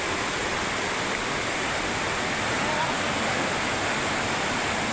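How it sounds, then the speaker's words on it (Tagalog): A strong water current rushes at Wawa Dam as a loud, steady, broadband roar that fills the whole stretch without pause. "Ayan yung Wawa Dam. Ayan po, ang lakas ng agos"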